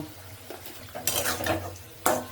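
Spices are mixed by hand into a chicken momo filling in a bowl, with a short burst of scraping and clatter followed by a brief quiet gap and then another sharp scrape, close up.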